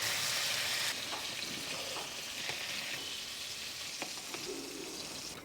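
Jumbo prawns fry in hot oil for a tender coconut prawn curry, giving a steady, close, dense sizzle with a few faint clinks of a spatula throughout.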